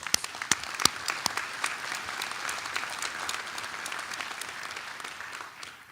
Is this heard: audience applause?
yes